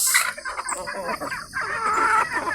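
Native chickens cluck and call in a steady, busy flock chorus at moderate distance, the sound continuous across the whole stretch with no clear pauses.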